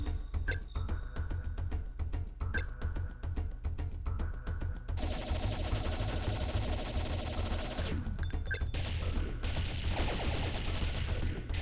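Rapid bursts of blaster gunfire from the video game Jet Force Gemini, sustained loud volleys with short pauses and electronic pings, continuous throughout with game music underneath.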